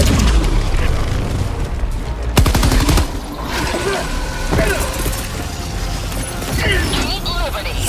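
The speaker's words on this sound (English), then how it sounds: "Firing orbital strike." Orbital strike explosions in a shooter video game boom repeatedly amid rapid gunfire and loud blasts, dense and chaotic throughout, with game voices talking over the barrage.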